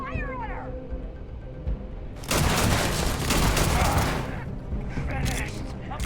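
Gunfire in the Starfield video game: a dense, loud volley of shots lasting about two seconds, set among other busy game sounds and whining tones.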